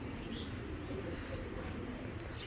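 A pigeon coos softly over a steady dense background hum, with a low murmur of a voice nearby.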